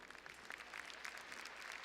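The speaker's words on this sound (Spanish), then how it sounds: "Les pido un fuerte aplauso" An audience applauds at a world congress on early childhood public policy in Puebla, Mexico, a steady, dense clatter of many hands clapping, heard from some distance and fairly quiet, with no speech over it.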